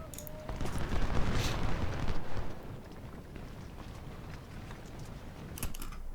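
Cannon and artillery fire from a Civil War battle at Chickamauga in the strategy game Ultimate General: Civil War rumbles in dense, overlapping booms and crackles that build and then fade to a distant, continuous din.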